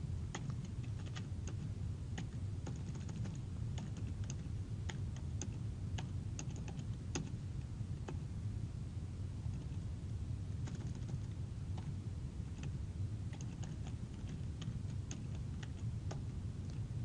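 Code is typed on a computer keyboard in quick, uneven bursts of sharp clicking keystrokes, close and fairly quiet, with short pauses between runs and no speech.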